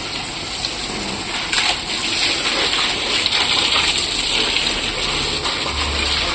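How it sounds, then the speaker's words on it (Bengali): Water gushes and splashes onto garden plants on a hot day, a loud, continuous spattering rush that grows slightly fuller after the first couple of seconds. "এই যে এদিকে গাছগুলোতে ভালো করে জল দিয়ে দিচ্ছে"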